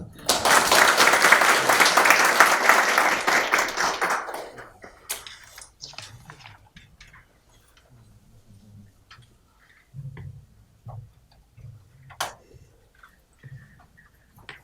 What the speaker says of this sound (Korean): 박수로 맞이합시다.